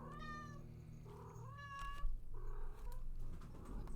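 A cat meows several times in a row, close and clear, in drawn-out rising and falling calls over a steady low background hum, with no one talking.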